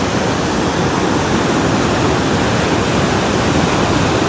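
Floodwater from a river in Portland, Jamaica rushes past in a loud, steady, broadband roar that runs unbroken throughout, close and with no voices.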